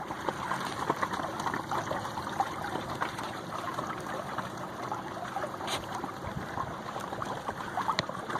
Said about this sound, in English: So here I am cruising along my little electric boat.